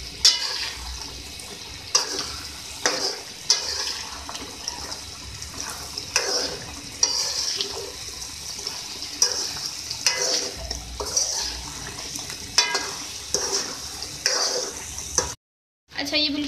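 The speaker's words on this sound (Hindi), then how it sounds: "हरी मिर्चियों को डाल के भी अपने 1 से 2 मिनट कुक करना है।" Green chilies fry in a pan of palak, bathua and methi saag with potatoes, a steady sizzle broken by repeated scraping stirs about every second or two, close and fairly loud, with a brief silent gap near the end.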